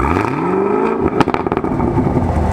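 A Chevrolet Camaro ZL1 on its stock exhaust revs hard, a loud close engine roar that rises and falls with a few quick blips in the middle.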